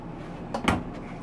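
Drawers in the kitchen of a 2024 Thor Chateau 28A motorhome sliding open or shut, giving a couple of short knocks and rolling rattles close by in a quiet interior, with no talk.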